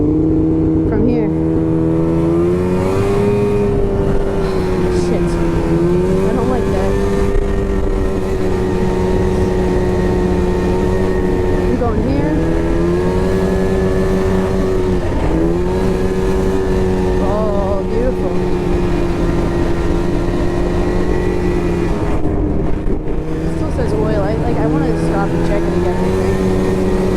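A snowmobile engine droning steadily through a joy ride on New Hampshire trails, loud and close, its pitch rising and dipping as the throttle changes, with a rider talking over it.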